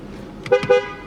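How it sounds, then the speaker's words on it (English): The horn of a 2016 Dodge Charger unmarked police car honks twice in quick succession, short loud toots close by. "Honk works."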